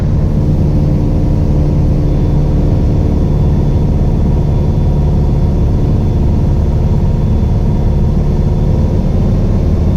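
A light training aircraft's piston engine drones steadily in flight from inside the cabin, a loud, constant hum with no talk.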